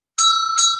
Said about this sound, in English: The bell tolls.